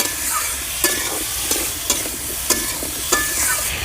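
Turnip and potato pieces stirred in a frying pan with salt and turmeric, a spatula scraping and tapping the pan in irregular strokes over a steady background sizzle.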